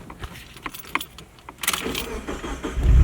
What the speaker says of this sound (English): you are gonna start the car